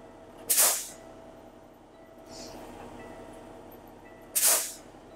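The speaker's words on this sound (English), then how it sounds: "Hard brake applications" A semi truck's air brakes are applied hard twice, each time giving a sharp, loud burst of hissing air. The bursts come a few seconds apart, with a quieter hiss and a low idle between them.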